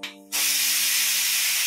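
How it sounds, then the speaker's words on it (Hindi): Tadka tempering hits hot oil with a sudden, loud sizzle that bursts in after a brief moment and holds as a steady, intense hiss to the end. "ये जो तड़का है ना, ये गाइस मेन है हर रेसिपी में"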